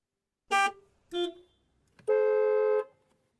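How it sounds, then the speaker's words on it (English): Car horns sound in traffic outside: two short toots, then one long sustained honk, loud and clear with nothing else behind them. "the sound of traffic from outside."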